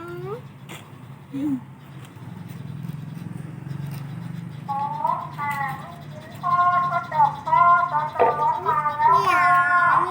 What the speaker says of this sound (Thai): ไหนเหมียวอ๋อเหมียว เหมียวเดินมา